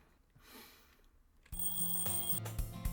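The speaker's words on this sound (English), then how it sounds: "My alarm goes off and it's time for me to go to school." Alarm clock ringing in a Doki Doki Literature Club mod game: after a quiet, faint stretch, a loud steady electronic alarm tone starts abruptly and keeps sounding with buzzing harmonics to the end.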